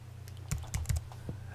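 Several quick keystrokes on a computer keyboard, close and soft, tapped in a short uneven burst and then one final key, with quiet room hum beneath.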